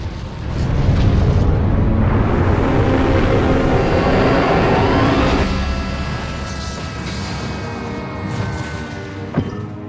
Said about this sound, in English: we just got the final cutscene here of all of the place blowing up